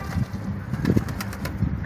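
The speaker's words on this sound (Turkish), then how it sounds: "Hadi bak içeride bir sürü kuş var yakala birini." Pigeons inside a coop make low, steady cooing and soft bursts of wing flapping, close by and continuous without talk.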